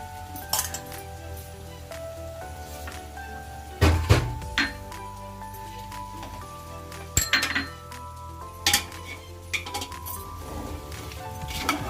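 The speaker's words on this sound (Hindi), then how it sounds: "अब हमें चिकन को थोड़ा चलाना है अच्छी तरह से।" Chicken is stirred in a metal pot for South Indian chicken dum biryani. A spoon clinks and scrapes against the pot in scattered bursts, some sharp and loud, with quieter stretches between them.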